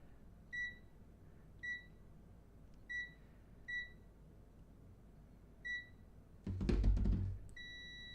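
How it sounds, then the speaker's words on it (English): An electronic multimeter gives six short, evenly spaced beeps, faint and close, followed by a brief burst of clattering handling noise and then another beep, with no talk. "Do you not beep? I want you to beep."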